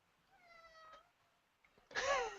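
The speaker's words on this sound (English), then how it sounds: "The cat says no." A cat meows twice: a drawn-out, wavering meow in the first second, then after a pause a louder, sharper cry near the end, with no talk over it.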